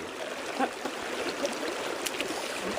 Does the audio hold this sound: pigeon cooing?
no